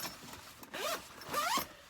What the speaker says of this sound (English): You've got the regular smooth zipper.